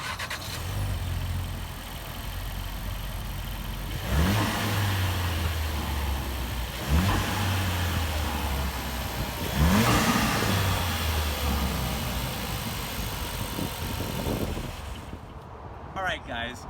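A Ford Focus RS 2.3-liter turbocharged inline-4 running under the open hood, a steady idle punctuated by three or four short revs, moderately close.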